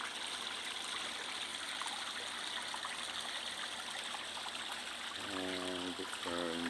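A garden water feature flowing steadily, a soft continuous trickle and splash heard at low level, with a brief tonal sound near the end.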